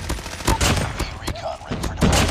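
A QQ9 submachine gun fires in Call of Duty Mobile, loud close-up bursts of rapid shots with sharp cracks and thumping impacts, pausing briefly between volleys.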